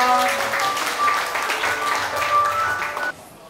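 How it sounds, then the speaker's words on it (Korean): Clapping from an audience at a Korean gathering as guests are introduced, a full, dense burst of applause that cuts off abruptly near the end. "여러분 큰 박수 부탁드립니다"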